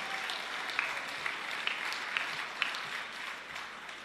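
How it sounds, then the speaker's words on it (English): An audience at a Jamaican poetry festival gives sustained applause, a dense, even spatter of clapping with a few sharper claps standing out. "Ladies and gentlemen, give her a round of applause"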